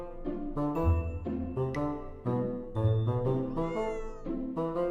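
A cat meows repeatedly in a near, loud series of drawn-out, wailing calls with brief gaps between them, and no one talks over it.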